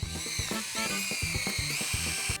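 A Parkside cordless drill spins a small drill bit, its whining motor rising and dipping in short pulses as the bit bites into the material, close and steady, without voices.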